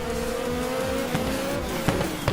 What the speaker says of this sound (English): Wheels against cracks on the tarmac.